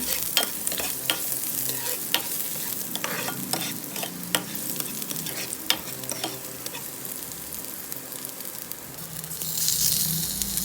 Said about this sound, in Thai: เรามาผัดกันเลยนะคะ ตังกระทะใส่น้ำมันเกลือกระเทียมให้หอม